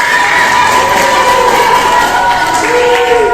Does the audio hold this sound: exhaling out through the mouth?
no